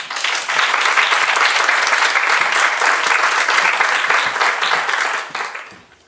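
A lecture audience breaks into steady, dense applause welcoming the guest speaker, many hands clapping together for several seconds before the sound tapers off near the end.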